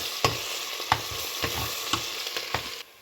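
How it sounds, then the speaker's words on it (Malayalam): Green chillies and spices sizzle in hot oil for prawn biryani while a utensil stirs and scrapes the pan every half second or so, with a sudden stop at the end. "ഓയിലൊന്ന് വറുത്തെടുക്കാം"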